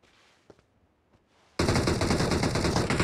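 Video game gunfire erupts after a few quiet seconds with faint clicks, turning into a loud, dense burst of continuous automatic fire that runs to the end.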